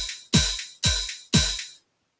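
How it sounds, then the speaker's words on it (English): FL Studio drum pattern of kick, busy hi-hat and snare on beats 2 and 4, heard as three loud repeating hits, each with a deep kick and a bright hiss, then stopping into silence. "But I'm starting to not like the sound of this hi-hat because it's really busy."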